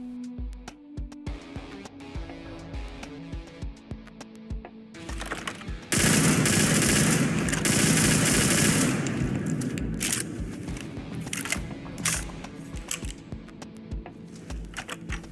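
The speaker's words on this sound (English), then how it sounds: "ArmaLite AR-121, a very cool standalone assault rifle mod" Rapid bursts of automatic fire from the ArmaLite AR-121 assault rifle mod in the game Starfield, short volleys and single shots early, then a long loud sustained burst, followed by scattered shots and clicks.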